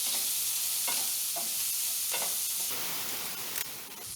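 A whole corn cob frying in a pan over lowered heat, giving a steady bright sizzle with a few soft stirring scrapes and clicks, close and continuous with no voices.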